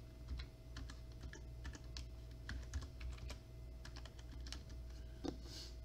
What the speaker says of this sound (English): and then I have to put in my password.